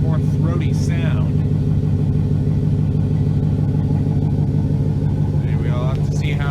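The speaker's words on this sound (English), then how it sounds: "this intake just gave the exhaust a nice more throaty sound." Idling engine of a 2006 Chevrolet Silverado fitted with a Volant cold air intake, a steady low throaty rumble close by, with a voice talking briefly over it at the start and end.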